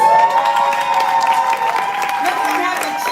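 An audience at an awards ceremony cheers and applauds loudly and continuously, a dense wash of clapping with whoops rising over it.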